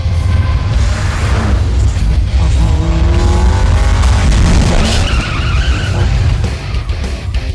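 A speeding car closes in from behind and skids, loud throughout with a steady low engine roar, squealing tire tones, and a harsh burst of skidding toward the end.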